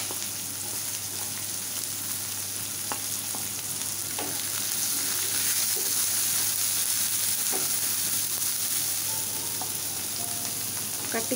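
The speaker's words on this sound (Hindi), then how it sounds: "पांच फुटण फुटे गले आम प्याज पकईवा" Panch phoran spices and onion frying in a wok, a constant close sizzle with scattered crackles and occasional scraping clinks of stirring, no voices.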